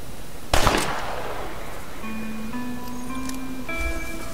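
A single gunshot in the Western video game Red Dead Redemption: one sharp, loud crack with a short decaying tail, followed by quiet ambience and faint sustained musical tones.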